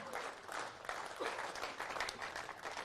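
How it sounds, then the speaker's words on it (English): Dense audience applause at a China versus Rest of the World bowls showcase match, a steady wash of many hands clapping throughout, moderately loud and without pauses. "Big round of applause for World Bowls and the sport of bowls pushing for the Olympics."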